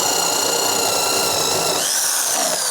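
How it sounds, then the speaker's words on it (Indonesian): Electric drill, a 400 W H&L PRO 10RE, boring into red cedar with a 16 mm spade bit: a steady high whine with grinding wood chatter, continuous and loud, the pitch shifting slightly near the end. "kita pakai mata bor kipas 16 mili teman-teman, masih sama ke kayu red cedar"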